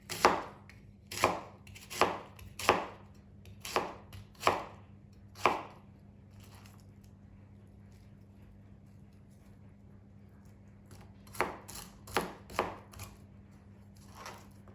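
A knife chops cabbage on a board in bursts: six sharp, evenly spaced cuts, a pause of several seconds with only a low steady hum, then four more close, crisp chops.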